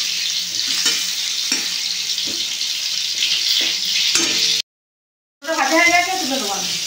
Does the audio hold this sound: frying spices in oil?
yes